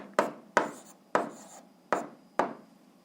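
Pen or chalk strokes writing out an algebra exercise on polynomials, five short scratchy bursts at a steady rhythm, close and fairly quiet, with no talk.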